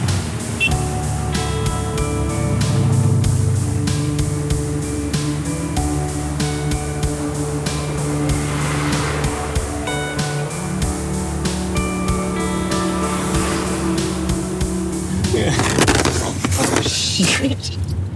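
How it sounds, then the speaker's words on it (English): A car in Taiwan runs with an odd engine noise: a sustained whining hum with shifting tonal pitches that carries on for the whole stretch, then grows into a rougher, busier burst near the end. "What is that sound of the engine?"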